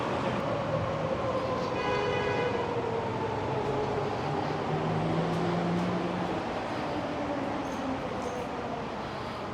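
Vancouver SkyTrain rolling past near a station in Strathcona, with a continuous rumble and a shifting whine from the cars as they go by, steady and fairly close, heard from the street.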